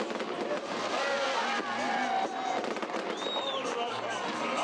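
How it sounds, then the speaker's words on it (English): Victory Day celebration fireworks in Kazakhstan pop and crackle over a busy outdoor crowd, with a whistling streak rising partway through amid constant background voices. "The celebration of the great victory culminated with 10-minute fireworks all across Kazakhstan."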